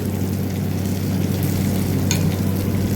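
Chili powder and turmeric fry in hot oil, a steady dense sizzle holding at an even level throughout, close and fairly loud.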